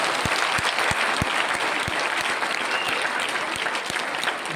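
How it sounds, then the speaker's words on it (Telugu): An audience clapping loudly and steadily at a talk, a thick wash of many hands with sharp individual claps popping out at irregular moments, sustained without a break and not covered by any voice. "అర్థం అయితే చప్పట్లు కొట్టండి గట్టిగా."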